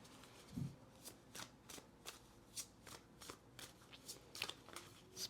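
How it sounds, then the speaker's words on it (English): Tarot cards are shuffled by hand up close, with a steady series of soft, crisp riffles and slaps at a relaxed pace. "let's pull a few more cards here"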